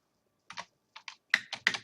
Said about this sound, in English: You guys get to see my adroit typing skills.